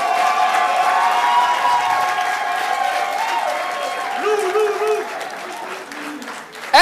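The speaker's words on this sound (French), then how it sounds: "Applaudissez encore pour elle." An audience applauds steadily throughout in a hotel hall at a Hilton in France, a dense, sustained wash of clapping from a large crowd, close and continuous without a break.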